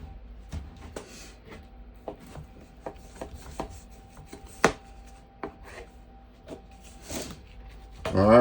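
A knife trims a raw beef brisket with repeated short cutting and scraping strokes against a board, spaced irregularly and close up, ending in a louder rustle.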